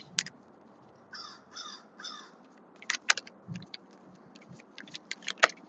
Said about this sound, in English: And a crow's talking of a storm.